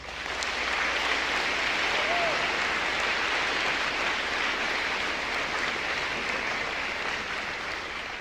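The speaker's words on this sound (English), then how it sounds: "So please join me in a round of applause for all of VanMeer's incredible educators if they could please stand." A graduation ceremony audience applauds the teachers, a dense, steady wash of clapping from a large crowd that holds at even strength for several seconds, with no speech over it.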